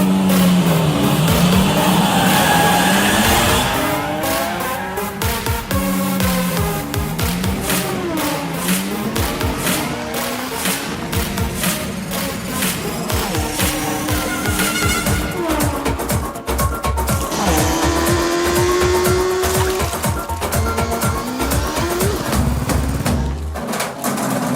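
Race cars speed past with loud, surging engine roars and repeated sharp tire squeals, engines rising and falling in pitch over a continuous busy mix for the whole stretch.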